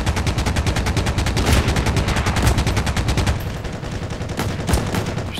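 Rapid automatic gunfire in the WWII video game Heroes & Generals rattles out in long, loud, close bursts. The shots fire in a fast steady rhythm with a brief lull before resuming, and no talking is heard.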